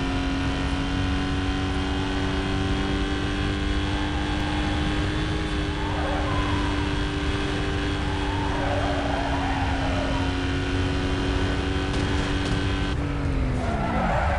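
Continuous car engine drone with tire squeal and skidding in Need for Speed Most Wanted (2005), a racing video game, crossing a bumpy, uneven chicane; steady loud motor tone with bursts of screech midway and a pitch drop near the end.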